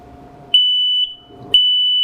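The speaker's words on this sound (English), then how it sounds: "That is the smoke detector portion of it activated." A combined smoke and carbon monoxide detector in an apartment sounds its smoke alarm: two loud, piercing electronic beeps, each about half a second long, with a low background hum between them.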